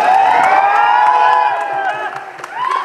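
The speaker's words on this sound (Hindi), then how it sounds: "एक हाथ उठा के ताली बजा के आशीर्वाद।" A crowd claps and cheers at a stage event in Lucknow, a dense burst of applause with whoops that stays loud and then thins out slightly toward the end.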